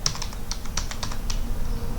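Quick keystrokes on a computer keyboard while entering program code, a short burst of clicks over a steady low background hum.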